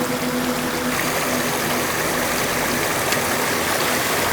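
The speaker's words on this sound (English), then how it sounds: "We have the running water sound." A small shaded stream runs steadily, its rushing, gurgling water filling the whole clip at an even close level with no voices.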